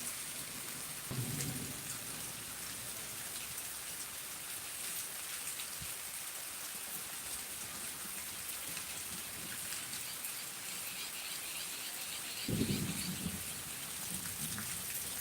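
Steady heavy monsoon rain hissing throughout in Miraj, with low rumbles of thunder rolling in twice, once early and again near the end.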